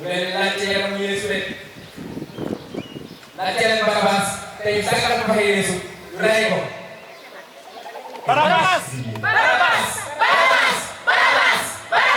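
A crowd of actors in a live Stations of the Cross performance shouts in unison in repeated loud bursts, alternating with a narrator speaking French between the outcries.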